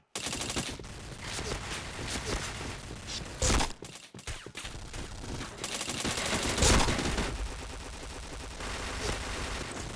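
Gunfire in the shooting game Point Blank: dense, continuous automatic bursts and loud shots fill the whole stretch, with one brief drop in intensity partway through.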